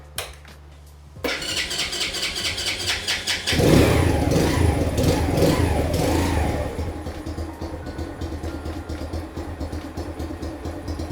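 A Grom clone mini motorcycle cranks over and catches about a second in, then settles into a steady, fairly quiet, close running engine note with a brief rise in revs, no talking.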